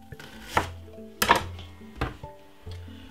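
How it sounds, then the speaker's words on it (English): A knife chops a white onion into thick pieces on a board outdoors in a back garden: four or five distinct, fairly loud thuds spaced irregularly, each with a brief crisp crunch. "Cut the white onion really"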